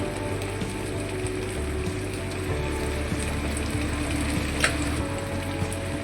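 Spices fry in oil, dried chilli powder and salt among them, with a continuous crackling sizzle and a low steady hum beneath, one sharper clink near the end; no one talks.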